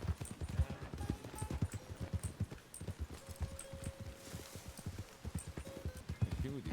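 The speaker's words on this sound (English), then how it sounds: "there's a horse right up here" Horse hooves clip-clop steadily in the RedM video game in a quick, even rhythm that stays close and moderately loud, with faint jingles and a brief high tone in the middle.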